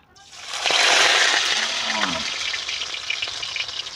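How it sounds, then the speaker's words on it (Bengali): Bottle gourd leaf parcels are lowered into very hot oil in a wok and set off a loud, bubbling sizzle that peaks quickly and then settles into a steady frying hiss, with a brief voice underneath. "পুরো তেলের মধ্যে এগুলো সব ভাজা হবে"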